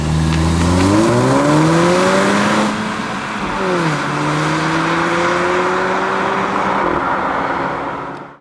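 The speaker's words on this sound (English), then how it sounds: "It's got a low roar to it." A 2017 Porsche Macan with four chrome-tipped exhaust pipes gives a loud, close engine roar while driving, rising through the revs, dipping at a gear change and then climbing steadily again.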